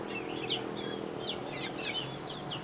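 Backyard chickens cluck and chirp in short calls over a steady low background hum, moderately close, with no talking.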